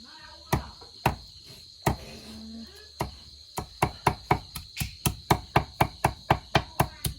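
Knife chopping sparrow meat on a board, sharp close thuds starting sparse then settling into a fast steady rhythm of about a dozen blows, with a constant high insect drone behind.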